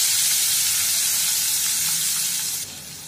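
Finely chopped onion and green chillies fry on a low flame in a pan, giving a loud, continuous sizzling hiss that eases slightly toward the end.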